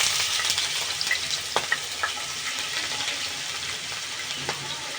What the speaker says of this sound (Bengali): ওই তেলে দিব একটা তেজপাতা, গোটা গরম মশলা, 3টা মিডিয়াম সাইজের পেঁয়াজ কুচানো